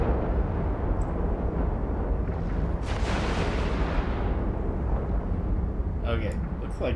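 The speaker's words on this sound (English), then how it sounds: "looks like he's probably shooting" A space battle in Eve Online fills the clip with continuous rumbling weapon fire and dense explosive booms, loud and sustained, swelling briefly in the middle.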